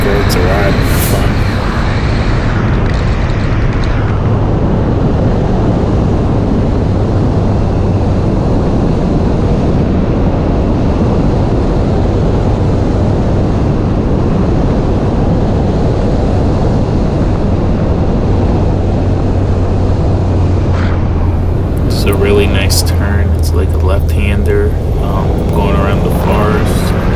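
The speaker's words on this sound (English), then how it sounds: "I love going around here ripping a sport bike." A sport bike ridden fast along back roads near Reading, Pennsylvania, heard as a loud, continuous rush of wind roar over a steady engine drone that stays constant throughout.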